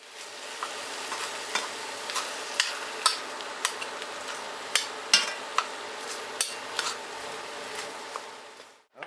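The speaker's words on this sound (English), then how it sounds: "So let's start browning my beef while I chop my vegetables." Lean beef browns in a pan with a continuous sizzle, broken by sharp knife taps and clacks as vegetables are chopped nearby, irregular and close, with no talking.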